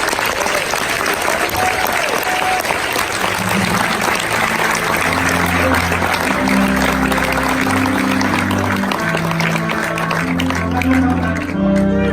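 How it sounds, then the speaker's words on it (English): Loud, sustained applause from a large outdoor crowd at an Army infantry graduation at Fort Benning, continuous for the whole stretch, with low band music and marching accompaniment underneath. "please join us in a round of applause for the United States Army Infantry Squad"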